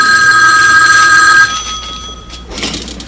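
A telephone rings at home in a sitcom scene, a loud steady electric bell ring filling the first half, then cutting off, followed by quiet room sound and a brief rustle.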